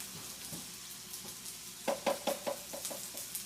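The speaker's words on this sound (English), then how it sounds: "I'm going to crack a large egg" A large egg cracked onto a hot griddle for okonomiyaki: a quiet sizzle at first, then a burst of short crackling pops and spatters near the end, close by with no voices.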